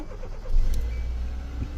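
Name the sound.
2015 Kia Soul engine starting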